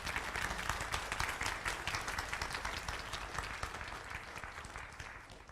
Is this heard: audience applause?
yes